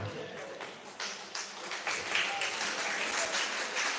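An audience applauds to welcome a guest at a live devotional gathering, dense continuous clapping that holds steady and swells slightly toward the end, heard from within the crowd.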